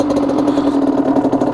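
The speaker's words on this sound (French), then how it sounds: "Donc une fois que la moto est démarrée" A motorcycle engine idling just after starting, a steady close-up mechanical putter with a fast, even pulse. No one speaks over it.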